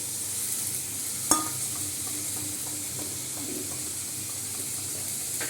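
Potatoes fry in a hot pan with a steady sizzle, a single sharp clink of a utensil near the start, and soft stirring scrapes through the rest, no one speaking.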